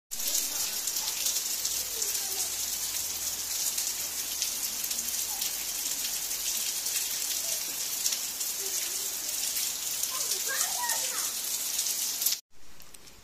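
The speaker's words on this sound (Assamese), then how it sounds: "বাহিৰত বৰষুণ" Rain falls outside a house in a dense, close, unbroken patter that holds steady for about twelve seconds, then cuts off abruptly.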